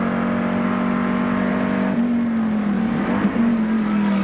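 Touring race cars, a Mustang and a Rover, accelerate on the Barbagallo circuit, a loud close engine drone with a strong steady tone that dips and recovers as the revs shift.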